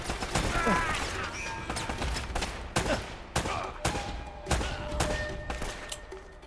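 Shotgun fire in the action game Uncharted, a run of sharp, loud blasts at uneven intervals with a rough rhythm, each trailing off under faint background game noise.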